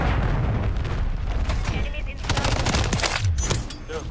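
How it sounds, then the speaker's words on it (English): A cruise missile slams down in a Call of Duty Modern Warfare 3 match, heavy booms and rattling gunfire in a dense, loud barrage that ends in a sharp burst, with players talking excitedly. "Friendly cruise missile approaching."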